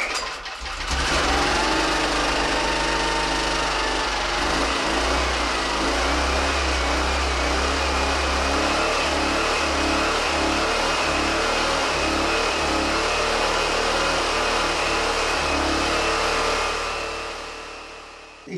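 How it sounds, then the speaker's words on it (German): An engine running on a new emulsion fuel cranks and starts, then settles into a loud, steady idle with a rhythmic pulsing throb that holds for the rest of the stretch before fading at the end. "Dann würde ich mal vorschlagen, dass wir diesen Motor doch jetzt einmal mit diesem neuen Energieträger zum Laufen bringen."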